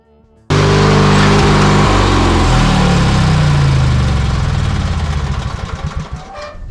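A riding lawn mower engine bursts to life after a brief quiet moment and runs loud and close with a steady, rough drone while mowing overgrown grass. The drone turns choppier and slightly quieter toward the end.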